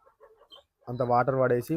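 Chicks peep in a clean poultry shed holding about 500 birds, starting with faint scattered cheeps and then swelling into a loud, close, continuous chorus of high calls.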